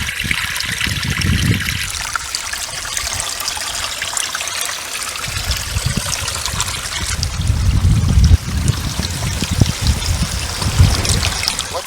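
Backyard fountain spilling as a small waterfall into a pond beside natural prairie, a steady close trickle and splash with no talk, rising into a heavier, lower gushing surge near the end.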